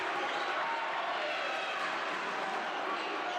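A basketball arena crowd cheers and roars steadily at a men's college game, a broad continuous wash of noise with a commentator talking over it.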